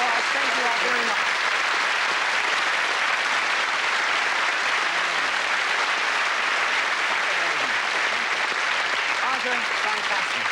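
A studio audience at a 1985 television magic show applauds in a continuous loud wash of clapping, while voices talk briefly over it.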